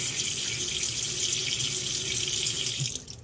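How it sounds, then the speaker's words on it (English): Tap water runs steadily into a bowl of cleaned raw chicken, a continuous splashing hiss that stops abruptly near the end. "I'm gonna go ahead and add some water to this."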